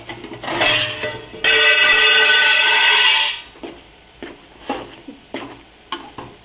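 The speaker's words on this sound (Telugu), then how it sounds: "సారీ అండి, ఈ మూత కింద పడిపోయింది." A metal pot lid clatters loudly against the floor of a home kitchen during cooking, a ringing metallic crash lasting a couple of seconds, followed by several lighter clinks and knocks.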